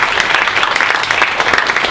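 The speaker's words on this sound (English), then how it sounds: "A big round of applause for them." A room full of people at a wildlife speaker-series talk claps steadily, a dense, loud wash of applause with no pauses.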